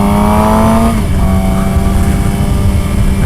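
A 2014 Suzuki GSX-R 750 sport bike engine drones loud and close while riding, its steady harmonic whine shifting down in pitch partway through as the revs change, with wind roar throughout.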